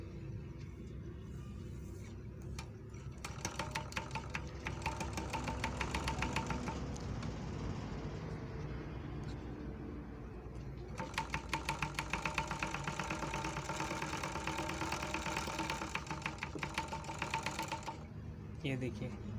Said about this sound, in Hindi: अब कपड़ा पे हम ऐसे खाली चलाएंगे इसको,